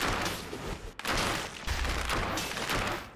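A ranged weapon fires nonstop in the video game Dead Cells, a dense, loud barrage of overlapping shots and impacts with barely any gaps.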